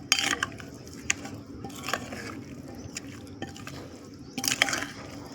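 Thick, oily homemade pickle mixture being stirred, a close wet squishing and scraping with occasional sharper clinks against the container, steady throughout with a louder burst near the end.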